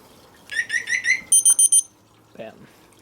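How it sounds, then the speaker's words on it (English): Scorpio SR anti-theft alarm on a motorcycle chirps electronically: a quick run of warbling tones, then four sharp high beeps, followed by a shorter faint chirp, loud and close. "I have a Scorpio SR, I believe i900 or i800 alarm on my bike"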